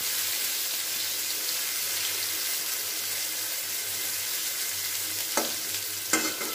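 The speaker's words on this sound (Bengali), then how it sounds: "এবার বেগুনটাকে আমি খুব ভালো করে ভেজে নেব।" Eggplant pieces frying in hot oil in a pan, a dense continuous sizzle close by with a faint low hum underneath and two short clatters near the end, no talk.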